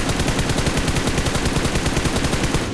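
Sustained automatic gunfire from a PUBG Mobile match, a rapid, steady stream of loud close shots with no pauses across the whole stretch and no talk over it.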